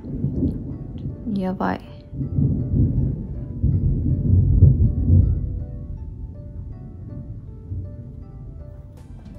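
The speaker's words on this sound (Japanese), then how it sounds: "雷も鳴ってる" Thunder rumbles low and distant for several seconds, swelling and fading during indoor quilt sewing, with a brief voice exclamation near the start.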